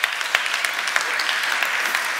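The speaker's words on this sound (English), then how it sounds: "Please give him a round of applause" An audience at a motivational keynote applauds a volunteer coming up on stage, a short burst of dense, steady crowd clapping at moderate volume.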